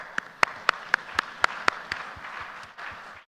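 A few people clap at an annual general meeting and convention, loud, distinct individual claps in a slow irregular rhythm that thin out and fade before stopping.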